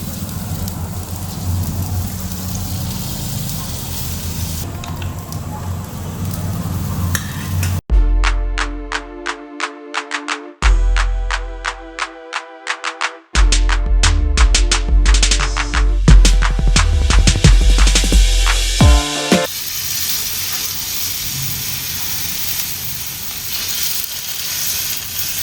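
Oil sizzles and spatters while malpua fry in a village kitchen, a loud dense crackling hiss that swells and cuts in and out in bursts, close and continuous with no talking.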